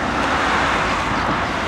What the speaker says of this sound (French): On entend un gros moteur.